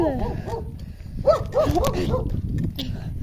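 A dog on a rural mountain route gives several short barks and yelps in quick bursts, close by, while a person speaks over them.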